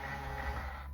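The electric wing mirror motor on a 2011 Mazda Demio (DE3FS) whirs in a short, steady, close hum for about a second, with no talking.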